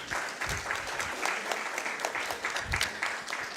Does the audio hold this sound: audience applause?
yes